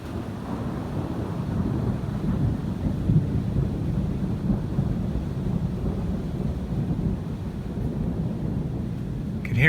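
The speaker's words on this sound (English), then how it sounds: "Hear it thundering" Low, continuous rumble of rolling thunder during a rain shower over farm fields, with wind buffeting the microphone, steady throughout and no voices.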